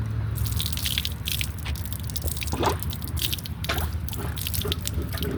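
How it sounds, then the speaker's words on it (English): A plunger works a clogged drain on an outdoor park water fountain, giving close, wet squishing and gurgling bursts over a constant splashing water background. "So here's a plunger."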